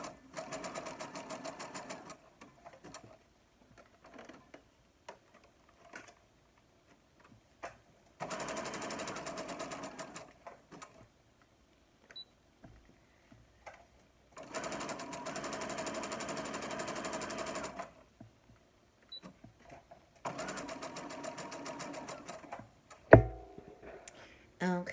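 A Brother SE400 sewing machine stitches at speed in four sustained bursts of fast, even whirring and needle clatter, separated by quiet pauses with faint clicks, recorded up close.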